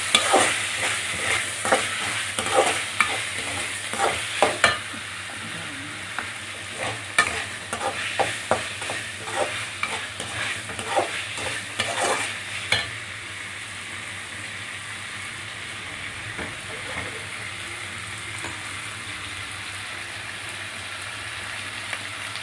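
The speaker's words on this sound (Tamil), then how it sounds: "நல்லா வெங்காயம் நல்லா வதங்கணும்." Onions sautéing in a pan for chicken gravy give a steady close sizzle and frying hiss, with a spoon scraping and stirring at intervals early on before settling into continuous sizzling.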